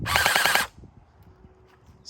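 Rapid burst from a battery-powered, fully automatic UnlocX gel ball blaster, a dense run of close, loud shots lasting about half a second, then quiet room noise.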